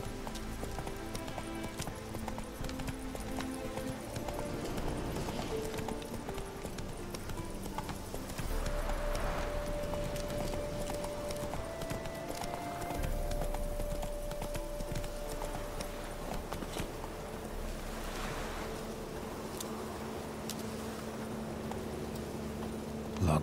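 Hoofbeats of a galloping horse in the video game The Witcher 3, a steady drumming rhythm that carries on for the whole stretch over a game music bed, with a brief whinny-like tone in the middle and a few spoken words.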